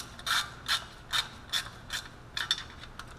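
A ratchet tightening the transmission pan bolts on a 1967 Ford C4 automatic, with about nine short, crisp clicking bursts in an uneven rhythm, close and moderately quiet.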